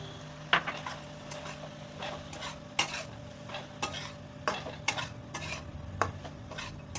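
Sambar masala frying in a little oil as a spoon stirs it in a pan, with a steady low sizzle and a few sharp scrapes and taps of the spoon against the pan.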